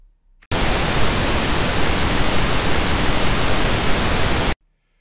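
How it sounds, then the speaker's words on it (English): A pink noise test signal, equal in amplitude across all octaves, bursts on abruptly, holds as a loud steady broadband hiss for about four seconds, then cuts off sharply into silence. "Pink noise, however, is equal amplitude across all octaves."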